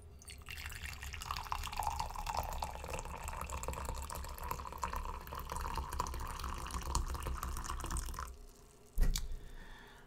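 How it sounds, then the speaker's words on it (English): Harvest Blend herbal tea poured into a cup, a steady close liquid stream with a rising pitch as the cup fills, followed by a brief clink near the end, no talking. "So let's pour our first cup and begin."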